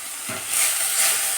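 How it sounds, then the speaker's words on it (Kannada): Eggs fry with mint and coriander leaves for a dhaba-style egg curry, making a short, loud, close hiss and sizzle that swells after a soft knock. "ಇದನ್ನು ನೀಟಾಗಿ ಫ್ರೈ ಮಾಡಿಕೊಂಡು ಇದರ ಜೊತೆಗೇ ಸ್ವಲ್ಪ ಪುದೀನ ಹಾಗೆ ಸ್ವಲ್ಪ ಕೊತ್ತಂಬರಿ ಸೊಪ್ಪನ್ನು ಹಾಕ್ಕೊಂಡು"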